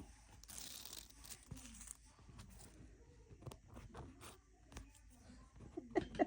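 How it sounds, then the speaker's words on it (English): Fusible tape is peeled off fabric while sewing a tote bag, giving a close, dry crackling tear with crinkly bursts and small handling taps, fairly quiet and uneven. "We'll let that cool for a second and peel the tape off."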